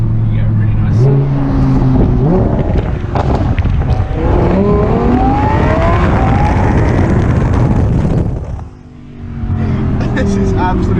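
A Lamborghini Huracan engine roars and revs loudly close up, shifting pitch as it accelerates, with someone talking over it and a brief drop near the end.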